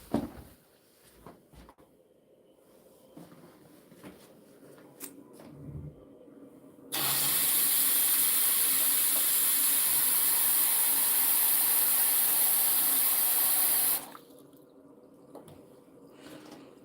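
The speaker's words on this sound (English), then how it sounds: "I hear water running" Water rushing through pipes inside the walls, a loud, steady hiss that starts abruptly, runs about seven seconds and then cuts off, with faint scattered taps and handling noises before and after.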